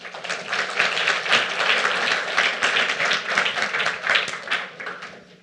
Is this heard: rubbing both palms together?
no